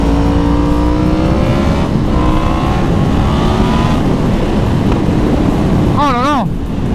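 A Yamaha MT-10 motorcycle accelerates hard, its engine note climbing through rising tones under loud wind rush, then wavering near the end, with a rider's voice partly buried in the noise.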